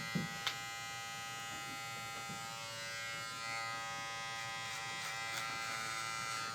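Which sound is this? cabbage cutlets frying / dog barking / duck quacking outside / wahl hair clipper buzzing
wahl hair clipper buzzing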